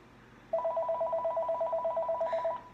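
A telephone rings in one continuous burst of rapid, pulsing electronic trills, close and clear, starting abruptly and stopping after about two seconds in an otherwise quiet room.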